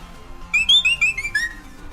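Oricorio's cry from Pokémon Sword & Shield, a loud bird-like run of bright whistled chirps, about six quick warbling notes falling slightly in pitch, heard alone.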